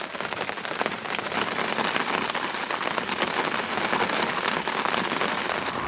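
Heavy rain pours steadily at a UK carp fishing lake in late October, a dense, loud, continuous patter of drops hitting surfaces close by.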